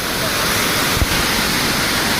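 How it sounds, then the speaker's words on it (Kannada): The Sirimane waterfall pours with a steady, dense rush of water that fills the whole short stretch at close range and loud level. "ಇದೇ ಸಿರಿಮನೆ ಫಾಲ್ಸು ನೋಡಿ"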